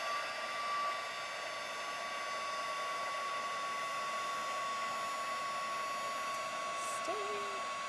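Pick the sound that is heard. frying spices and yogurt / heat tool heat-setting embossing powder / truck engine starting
heat tool heat-setting embossing powder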